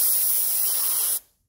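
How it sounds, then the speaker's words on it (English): A single continuous spray of material onto upholstery foam for a car seat insert, a loud steady hiss held for about a second before cutting off abruptly into silence. "the technique to spraying material onto foam is you don't want to spray directly down"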